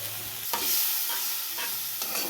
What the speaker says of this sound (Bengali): এবার আমার মেখে রাখা চিকেনের গ্রেভিটা দিয়ে দেব।